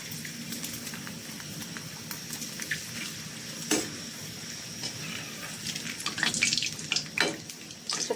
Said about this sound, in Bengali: এটার মধ্যে ভেজে নিচ্ছি। দেখি ছোটো ছোটো চিপসগুলো ভাগ দিলাম মাত্র।